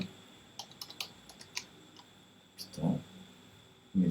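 Computer keyboard keys clicked at a desk while entering a folder name, a scattering of light, irregular taps in small bursts, followed by a couple of louder low thumps near the end.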